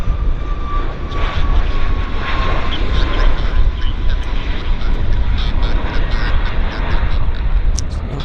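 A steady, loud roar of airplane engines runs throughout a takeoff at Vancouver Airport. It holds a constant broadband rumble with a faint tonal whine and swells slightly in the middle.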